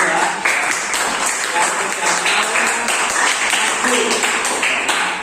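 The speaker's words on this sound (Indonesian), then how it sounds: "Sekali lagi silakan memberikan tepuk tangan kepada kelompok 3" Classroom applause for a presenting student group at an Indonesian school lesson, a steady burst of many hands clapping nearby with a voice speaking over it.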